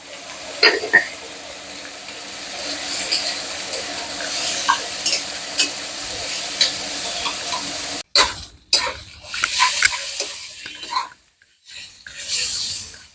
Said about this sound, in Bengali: যত তাড়াতাড়ি পেঁয়াজ নরম হবে তত তাড়াতাড়ি পেঁয়াজ ভাজা হয়ে যাবে